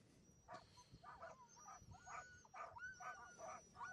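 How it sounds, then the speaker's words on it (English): Sled dogs bark and yip excitedly at an Iditarod race start, a dense chorus of repeated bursts from several dogs, fairly close, over a steady crowd background with no clear speech. "Got some vocal dogs. Pretty fired up to go."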